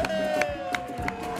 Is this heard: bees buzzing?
no